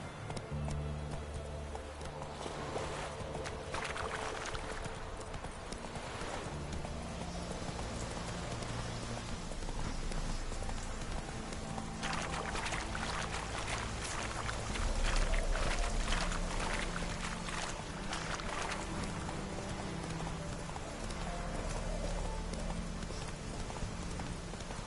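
Game-world horse trotting through rain in The Witcher 3: steady rhythmic clip-clop of hooves under a constant hiss of falling rain, with creaks and splashes mixed in, continuous and fairly close, no talk.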